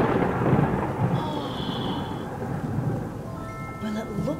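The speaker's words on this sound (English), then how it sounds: "it looks like there's going to be a scary thunderstorm today after all" Thunder rumbles steadily through a thunderstorm with rain falling, loud and continuous, with a brief higher tone and faint background sounds near the end.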